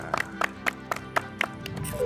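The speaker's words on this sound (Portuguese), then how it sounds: "E a Record aplaude vocês." A studio audience claps in a sparse, rhythmic pattern of about eight distinct claps over two seconds, heard close and fairly loud, with a voice rising in the background at the end.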